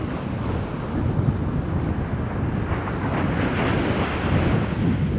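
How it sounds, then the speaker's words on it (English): Ocean waves break and surge close by, a loud, continuous wash of surf with heavy wind buffeting the microphone and no voices. "Watch these waves."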